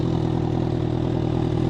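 A Honda CB1000 Hornet 1000cc naked motorcycle idles steadily through its exhaust, a loud, even low rumble with no talk.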